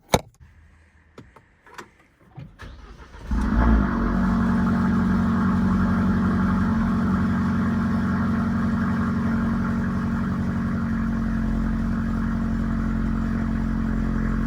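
A few faint clicks and knocks, then a Renault Megane RS engine cranks on a cold start and catches, settling into a steady, close rumbling idle that continues to the end.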